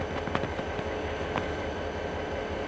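A WDG-4D diesel locomotive rolling slowly along the track, a steady rumbling engine drone with faint clicks and clanks of wheels, continuous and fairly close.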